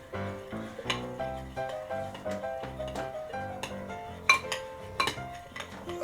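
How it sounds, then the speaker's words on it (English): A spoon clinks and scrapes against a dish while mixing canned food, a close, fairly quiet run of irregular metallic taps and chimes with no talking. "I'm gonna start mixing it with my spoon."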